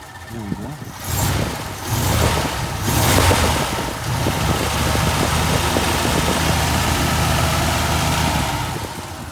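A 1950 Ford Custom Deluxe V8 idles steadily with a low, even rumble and a brief revving swell at the start, close by, while someone talks over it.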